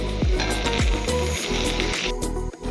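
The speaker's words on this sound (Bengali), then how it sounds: "এবার দিয়ে দেবো সেদ্ধ করে রাখা আলু ভালো করে মশলার সঙ্গে মিশিয়ে নেবো" Boiled potatoes being mixed with spices and ground onion, ginger and garlic paste in a hot pan, with close sizzling and a few heavy scraping and knocking strokes from the spoon, no talk.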